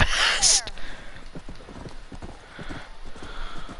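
Hooves pound in a fast gallop in Red Dead Redemption, a quick irregular drumming close by, opening with a loud whinny from the horse.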